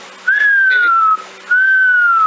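A child plays a flute and produces two clear, breathy sustained notes. Each note glides slightly downward, and there is a brief gap between them. The notes are loud and close.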